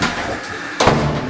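A bulldog pushes a door shut, giving one sharp, close thud near the end of a brief quiet stretch.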